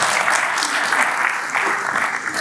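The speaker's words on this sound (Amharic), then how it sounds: "አጨብጭቡልኝ።" Audience applause fills the room, a steady, dense wash of many hands clapping close by with no voices over it.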